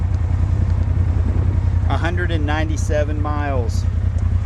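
A 2016 Polaris RZR 1000 Turbo side-by-side idles with a steady, low, even rumble throughout, close by, while someone talks over it.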